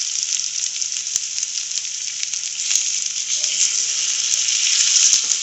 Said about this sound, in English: Now to this we add in our potatoes.